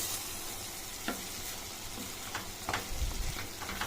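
Radish greens cooking in a pan are stirred, giving a continuous close sizzle and soft frying hiss with a few scraping stir strokes, without talk.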